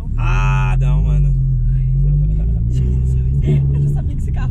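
An Audi R8 engine rumbles loudly and accelerates under the talk of people in the car, a deep continuous drone that holds through the clip.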